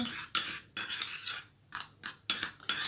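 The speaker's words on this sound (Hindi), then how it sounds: "अब हमने इसको कर लेना है मिक्स। ऐसे अच्छे से आपने इसको कर लीजिए मिक्स।" Lemon is mixed into a homemade hand and foot cream, with quick scraping strokes of a utensil against a container in a rhythmic series, close and moderately loud with no talking.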